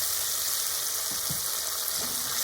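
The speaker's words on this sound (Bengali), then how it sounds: "এর মধ্যে আমি অল্প করে জল দিয়ে দিলাম।" Steady loud sizzle as a little water goes into a hot mustard gravy in a pan, with a few soft stirring knocks and no voices.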